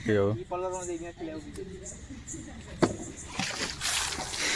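A bucket of water splashed over a person at a box cricket match in Gir Somnath: a rushing, broadband splash lasting about a second near the end, after voices talking and laughing nearby.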